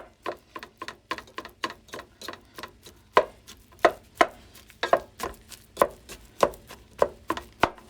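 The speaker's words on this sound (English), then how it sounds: "So Mommy's gonna mash it." Cooked tapioca (kappa) is pressed with a potato masher in a pot, giving a steady run of sharp, soft thuds about three per second, close and fairly quiet, with no one speaking.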